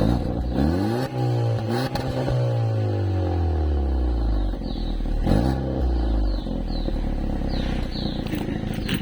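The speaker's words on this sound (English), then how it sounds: "This car sounds like a V8." A Volkswagen Polo GTI with a closed Wolvertronic exhaust revs hard and close, its deep roar sweeping up and down through repeated throttle blips with a rumbling, V8-like tone and no talking.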